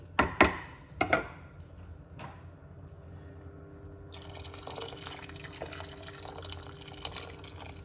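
Hot water runs steadily into a pot for a homemade chicken soup, a continuous close splashing pour after a few sharp drips and knocks.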